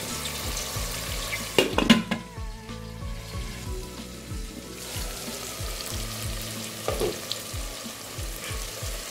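Masala frying in a pan for a dhaba-style masoor dal, with a steady crackling sizzle and occasional stirring scrapes and clinks close up.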